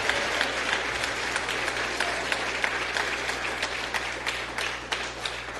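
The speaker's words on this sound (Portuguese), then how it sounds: "Pode aplaudir mais forte o nome de Jesus." A church congregation applauds at a Portuguese-language service, sustained loud clapping from many hands filling the room with a dense, fluttering roar that holds steady without pause.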